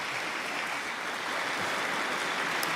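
An audience at the Trebbia gala and benefit evening applauds the laureates, a steady, dense wash of clapping that carries on evenly throughout with no voices over it.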